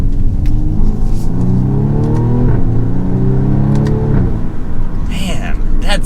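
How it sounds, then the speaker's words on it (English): A 2022 BMW M235i Gran Coupe xDrive with a four-cylinder engine accelerates hard in sport mode. Its engine note climbs steadily, drops briefly at each gear change, then rises again, loud and close inside the cabin. "So we'll do another acceleration in sport mode."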